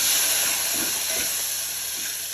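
Green chillies sizzling as they hit hot oil, a loud, steady frying hiss throughout, close and unbroken, with faint crackles underneath.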